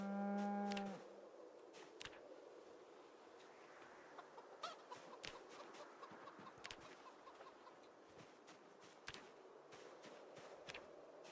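Chickens clucking in a farm pen in the video game Project Zomboid, an opening cow moo followed by scattered clucks and sharp pecking or scratching clicks over a quiet windy background.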